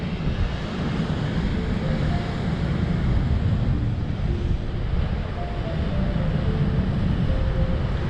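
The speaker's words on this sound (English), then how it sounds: "them waves come up over them rocks there" A continuous roar of sea waves surging against rocks at Pollan Bay, Ballyliffin, County Donegal, broad and steady, with wind blowing across the microphone throughout.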